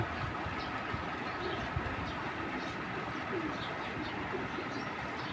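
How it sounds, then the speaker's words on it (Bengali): Low, continuous cooing of several racing pigeons under a dense, rumbling background, steady and moderately close. "আমি কবুতরগুলো দেখাই দিচ্ছি"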